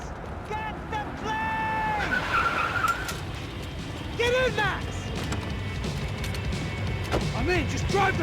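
Car tires skid and screech repeatedly in the Max Payne video game, with several sharp squealing bursts over a steady engine roar, close and loud, amid crashes and voices.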